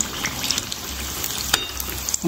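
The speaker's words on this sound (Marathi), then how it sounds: "दोन्ही बाजूने छान असे तळून घ्यायचे आपल्याला" Bread aloo patties shallow-frying in hot oil as Indian street-food snacks, giving a steady close crackle and sizzle with a few sharper pops and a short clink of utensils, no voices.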